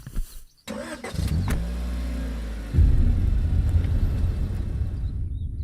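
A car's engine cranks and catches, then settles into a steady idle and rumbles louder as it pulls away, close and clear with no talk.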